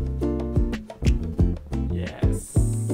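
Strummed ukulele chords ring out in a quick, bouncy rhythm, several bright seventh and suspended chords played close up with no voices.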